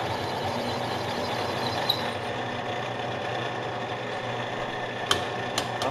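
Pipe lathe cutting and chamfering metal pipe with a touch of WD-40, a steady dense machine hum and grinding drone throughout, with a few faint high clicks near the end.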